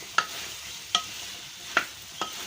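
Potatoes stirred into fried capsicum and spices, the spoon scraping the pan in four evenly spaced strokes over a soft, steady sizzle.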